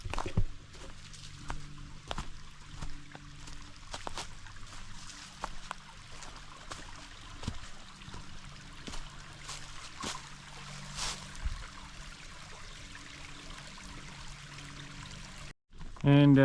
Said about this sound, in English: One last gorgeous visit with the brook before it starts to pull away.